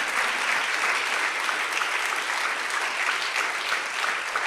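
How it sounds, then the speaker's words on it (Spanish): A church congregation applauds the Lord at the close of a Spanish-language service, a dense, even wash of many hands clapping continuously and alone, moderately loud throughout. "Dale fuerte el aplauso al Señor."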